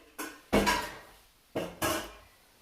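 A large cooking pot is handled in a home kitchen, giving four sharp metallic clanks and knocks in two close pairs, each ringing briefly before fading, with no talking.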